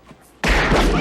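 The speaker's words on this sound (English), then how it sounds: "And then the gunshot sound is like the greatest of all time." A .44 Magnum gunshot from the film Dirty Harry bursts suddenly after a quiet moment, one loud, close boom that rings and echoes heavily through the rest.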